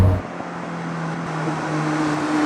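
Engine of a dedicated track car, a Westfield-type lightweight, pulling at full acceleration with a steady rising drone and a strong low hum, near and loud with no talk.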